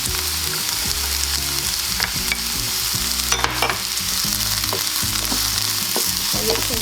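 White onion and pepper frying in a pan for vegan pineapple fried rice, a dense close sizzle throughout with a few stirring scrapes and taps, no voices.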